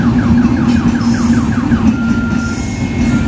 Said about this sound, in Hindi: ये देखो ट्रेन जा रही है